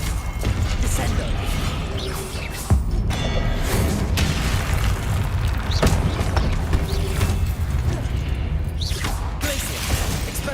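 Descendo spell impacts in Hogwarts Legacy, heavy slamming crashes and booms recurring every couple of seconds amid mechanical clatter and whooshes, loud and close over a busy game soundscape.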